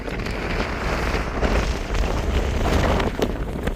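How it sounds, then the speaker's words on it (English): Strong wind buffets the microphone on an exposed Lake District hiking path between Keswick and Grasmere, a loud, continuous broadband roar with gusting surges throughout. "it's very windy"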